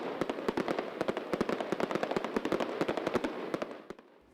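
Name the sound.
fireworks exploding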